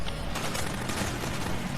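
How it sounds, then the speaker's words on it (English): Automatic weapons fire in a TV police drama crackles in rapid, repeated bursts of many guns, fairly faint and dense, continuing steadily after a brief lull at the start. "Automatic weapons. A lot of them."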